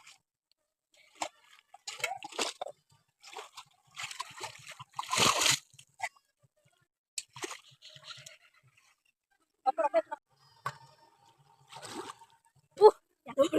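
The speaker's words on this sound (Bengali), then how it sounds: "দেখো এই যে জল তুলতে এসেছি এই পুকুরটায়" Water sloshing and splashing as a large pitcher is dipped and filled at a village pond, coming in short irregular bursts with quiet gaps between them and a few nearby drips.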